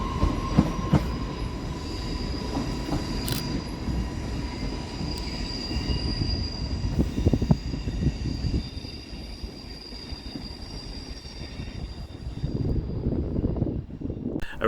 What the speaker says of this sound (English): departing in the opposite direction is 323223, working the 1736 Northern service through to Crewe